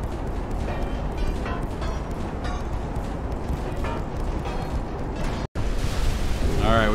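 Repeated booming torpedo impacts explode against a battleship in the naval game Ultimate Admiral: Dreadnoughts, a dense, continuous rumble of loud blasts with a brief drop to silence before the roar resumes, and a voice cuts in near the end.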